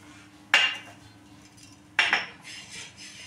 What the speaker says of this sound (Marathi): आता आपण याच्यात बडीशेप भाजून घेणार आहोत।